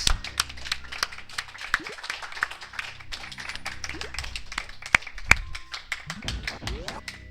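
An audience at a Super Metroid item randomizer speedrun event claps in scattered, uneven patters, moderately close and mixed with taps and brief voices.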